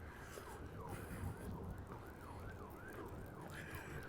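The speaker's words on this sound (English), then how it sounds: "I hear sirens" Emergency vehicle sirens wail in rising and falling sweeps from far off, heard outdoors on a walk around Wascana Lake in Regina, over a steady wash of wind and distant traffic.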